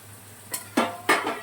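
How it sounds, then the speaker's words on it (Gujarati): Mustard seeds and asafoetida hitting hot oil for a Gujarati sambharo tempering, giving two or three sharp sizzling bursts that rise and fade in a quiet kitchen. "બસ સંભારો વઘાર નાખ્યો એણે."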